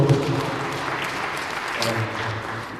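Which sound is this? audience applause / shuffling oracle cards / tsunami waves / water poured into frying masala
audience applause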